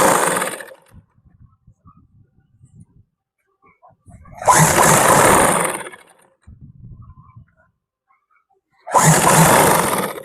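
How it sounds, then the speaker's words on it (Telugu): A sewing machine stitches a folded skirt seam for a school uniform in three loud, whirring bursts, each a second or two long, separated by quiet pauses with faint handling sounds. "ఈ దారాలు అవి బయటికి రాకుండా ఇలా లోపలికి ఫోల్డ్ చేసి పైనుండి ఒక కుట్టు అన్నది వేసుకుంటూ వెళ్ళిపోదాం"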